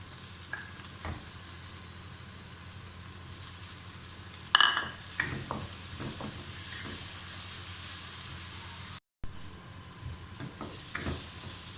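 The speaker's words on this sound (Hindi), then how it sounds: "प्याज फ्राई हो चुके हैं, इसमें हम अदरक लहसुन का पेस्ट डाल लेते हैं।" Ginger garlic paste frying with fried onions in a pan makes a steady hiss and sizzle, with a sharp burst as it goes in and intermittent stirring scrapes after, and no talk.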